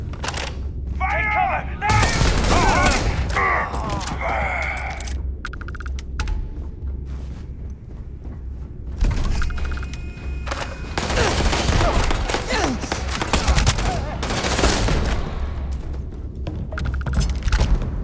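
Heavy combat gunfire in the space game Starfield: loud, repeated bursts of shots and booming impacts come in waves, with brief voices and electronic effects mixed in between the volleys.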